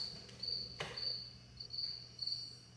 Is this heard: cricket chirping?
yes